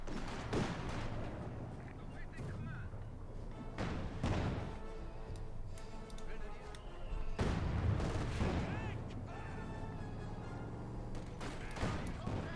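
Heavy mortar and artillery fire in Company of Heroes 2, repeated deep booming impacts and blasts spread irregularly across the battle, under continuous talk.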